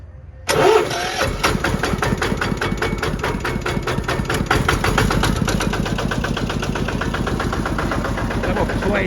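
A KRT-140Plus household multipurpose tractor's diesel engine, in neutral, starts abruptly and settles into a loud, close, rapid clattering idle that runs steadily to the end.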